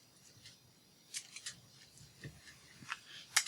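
Scissors snip through a piece of ribbon in a few short, crisp cuts, quiet and close, with small rustles of ribbon being handled between snips.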